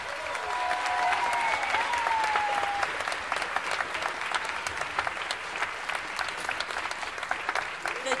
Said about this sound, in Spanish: Un aplauso enorme, por favor, para la dirección musical